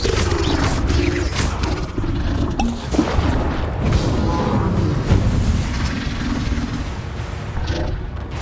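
Bombarda spell explosion in Hogwarts Legacy, a loud booming blast amid continuous rumbling magical combat noise and crashes, with a brief voice.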